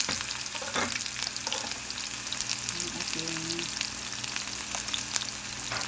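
Garlic and onion frying in a pan for eggplant adobo, a steady close sizzle and crackle with occasional stirring scrapes throughout.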